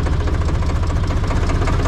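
An IHC 633 tractor engine runs steadily as the tractor drives forward, a close, loud, low knocking rumble with an even mechanical pulse throughout.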